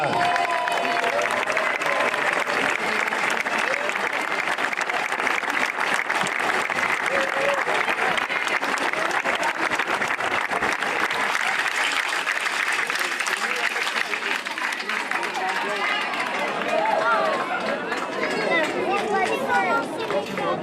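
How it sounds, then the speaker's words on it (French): Sustained applause from a large crowd at a cycling race podium ceremony in Alsace, steady and loud throughout, with scattered cheers and murmuring mixed in. "Des applaudissements pour Karl Fredrik Hagen, deuxième."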